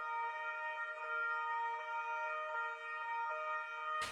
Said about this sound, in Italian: Sirene spiegate come un urlo di dolore a rompere un silenzio irreale